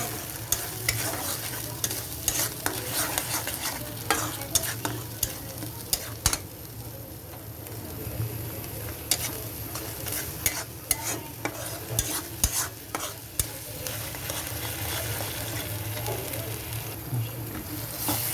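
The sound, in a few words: gravy being fried and stirred in a pan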